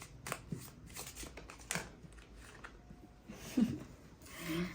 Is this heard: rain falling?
no